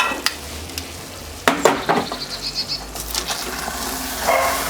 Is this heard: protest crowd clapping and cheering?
no